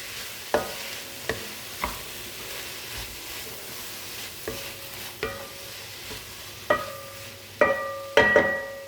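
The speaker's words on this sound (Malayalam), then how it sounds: "2 തക്കാളിക്ക ചേർക്കണം. ഇതെല്ലാം കൂടി നന്നായിട്ട് വഴറ്റിയെടുക്കാം." Cooked beef and tomatoes are sautéed in a pan, a spoon scraping and clinking against the metal in irregular strokes over a soft sizzle, growing more ringing toward the end, with no speech.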